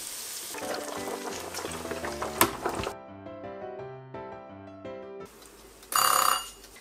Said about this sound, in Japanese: 目覚まし時計。